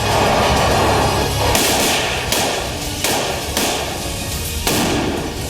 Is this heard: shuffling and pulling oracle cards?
no